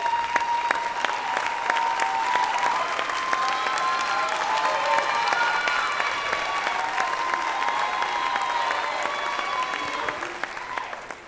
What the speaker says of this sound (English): Round of applause for the speaking Bearcats.